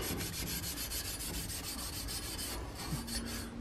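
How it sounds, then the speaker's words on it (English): A Scotch-Brite pad scrubs a metal shell box bracket for a reloading press in quick, rhythmic raspy strokes, close and fairly soft, with no one talking. "This is what I'm rubbing right now is just a bracket to hold the shell box when they're completed"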